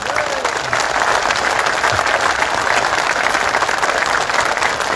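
A crowd at a teachers' rally at Azad Maidan in Mumbai applauds, a dense, steady wall of clapping sustained loudly for the whole stretch, heard from within the crowd.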